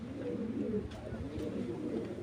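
Racing pigeons in a loft coo softly, a few low rolling burbles rising and falling over about two seconds, close by and fairly quiet.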